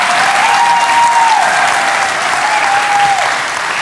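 Loud, sustained applause from a live podcast audience at the TT, a thick continuous roar of clapping with cheering voices rising through it.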